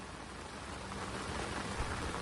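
Heavy rain falls in Cuddalore as a dense, steady hiss of downpour with no pauses and no voices.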